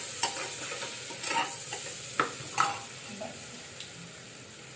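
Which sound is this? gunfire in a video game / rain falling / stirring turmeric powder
stirring turmeric powder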